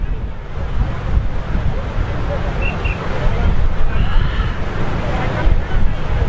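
Surf rolling onto a Mumbai beach, heard as a steady, loud wash of breaking waves mixed with heavy wind buffeting and a faint murmur of distant crowd chatter.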